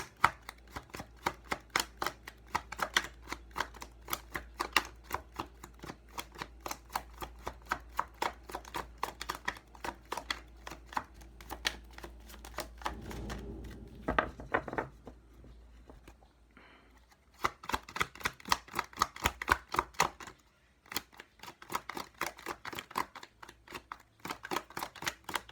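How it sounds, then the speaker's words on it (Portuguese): Tarot cards drawn one after another and laid out on a surface, producing rapid crisp snaps and shuffling flicks in bursts, close and fairly quiet, with a short pause midway. "Vou tirar todas as cartas e aí depois eu vou lendo."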